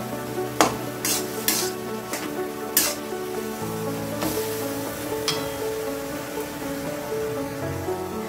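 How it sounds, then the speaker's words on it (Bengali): Bottle gourd and jaggery being stirred in a frying pan for a sweet-sour gourd chutney, with a spoon scraping and clinking against the pan in irregular strokes over a soft, steady sizzle, close and moderately loud, with no talking. "গুড়টাকে এখন লাউয়ের সাথে ভালো করে করিয়ে নিব।"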